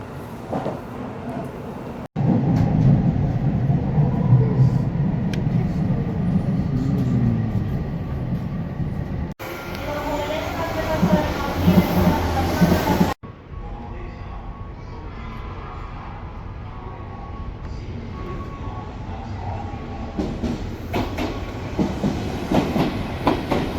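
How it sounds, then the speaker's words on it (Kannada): A local commuter train in Japan rumbles steadily along the rails with a dense, continuous roar, its character shifting abruptly a couple of times as the surroundings change, with no talking. "ನಾನು ಬರ್ತಾ ಇರೋದು ಲೋಕಲ್ ಟ್ರೈನ್ ಅಂತ ಇದು ಹಾಗಾಗ್ಬಿಟ್ಟು ಎಲ್ಲ ಕಡೆ ಸ್ಟಾಪ್ ಮಾಡ್ತಾ ಇದೆ"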